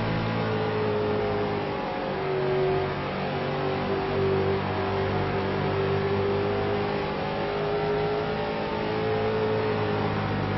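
Stock car engines roar steadily from inside the driver's cockpit during a racing game at Bristol, a continuous loud drone with a sustained engine tone rising and falling slightly, and no talking.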